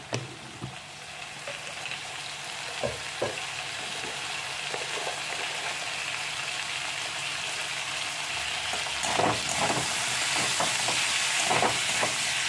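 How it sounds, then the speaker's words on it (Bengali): Potatoes fry in hot oil in a pan, a steady close sizzle with occasional stirring scrapes, growing slightly louder toward the end. "আলুটা প্রায় আমার ভাজা হয়ে গেছে।"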